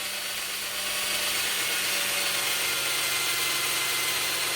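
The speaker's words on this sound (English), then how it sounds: "And I can tell where my drill is here. And I'm not using a drill press." A handheld electric drill bores into a Les Paul-style guitar kit body for the bridge without a drill press, giving a steady, close, unbroken whirring grind with no talking.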